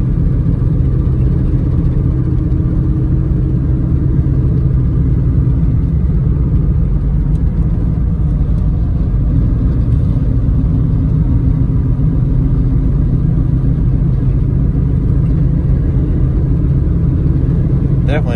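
A 1954 Studebaker Champion gasser with a new exhaust system pulls steadily in second gear, its deep engine rumble and road drone continuous and close, with a voice talking over it.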